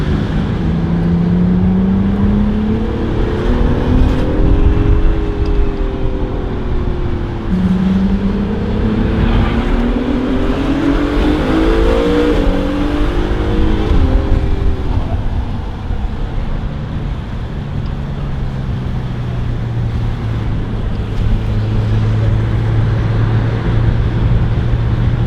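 A Ford GT sports car driving a lap on a tight race course lined with close walls, a loud engine roar heard from on board, revs climbing and dropping through repeated upshifts and braking, continuous throughout.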